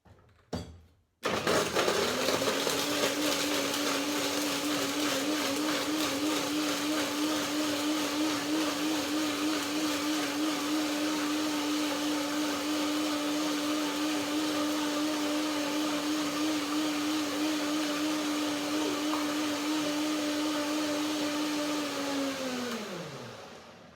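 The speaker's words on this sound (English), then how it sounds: "a little bit of water, of course, to blend it into the right texture with the blender dance" A blender whirs steadily at high speed for about twenty seconds after a brief clunk, blending a peanut macadamia nut cream with a little water, loud and close, then winds down and stops.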